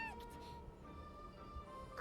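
A freed bird calls in a video game, giving faint, brief tonal chirps at the start and again at the end over a quiet game background.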